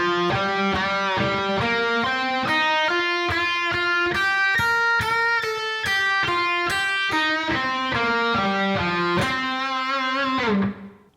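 Les Paul electric guitar plays a lick with light distortion, a run of sustained single notes including a bend, loud and close with no talk, ringing off at the end.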